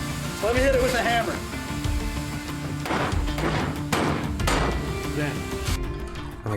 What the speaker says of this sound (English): Let me hit it with a hammer.